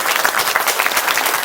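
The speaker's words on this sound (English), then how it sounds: "give a round of applause if you worked on shooting Clerks" Loud, dense applause from a premiere audience honoring the crew of the film Clerks at the Smodcastle, a continuous burst of many hands clapping.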